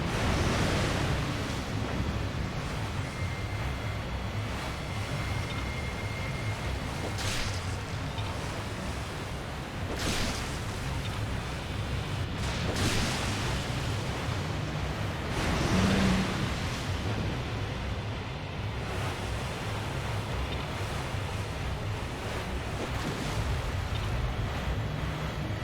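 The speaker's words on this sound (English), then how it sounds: "Oh, open water." Ocean waves roll through open water in Resident Evil 4, a steady broadband wash of surf and wind noise with periodic swells, continuous throughout and no talking.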